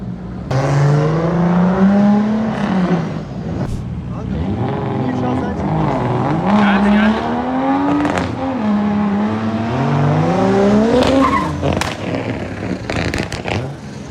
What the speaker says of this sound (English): I am directly participating in the race with this car.